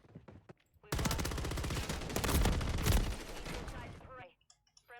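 Rapid automatic weapon fire in Call of Duty MW3 multiplayer, a loud continuous burst of shots lasting about three seconds, with brief clicks and game sounds before and after.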